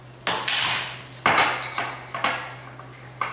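A half-teaspoon metal measuring spoon clinks and taps against a container while cumin is added, giving four or five distinct, close metallic strikes with short gaps between them.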